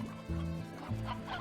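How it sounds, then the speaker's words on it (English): Painted hens from the video game Slime Rancher cluck in short repeated bursts, a few close, moderately quiet calls overlapping one another. "the painted hens are reproducing"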